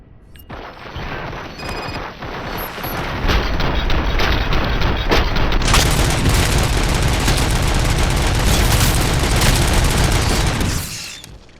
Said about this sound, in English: We must smash that thing. Fire at will.